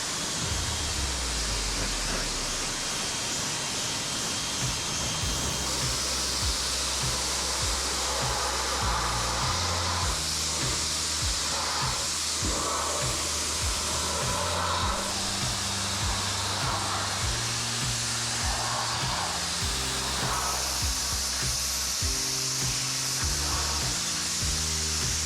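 A hose spraying water over an old aluminium boat before an acid wash, a loud continuous hissing rush that holds steady throughout, with faint knocks and low rumbles beneath.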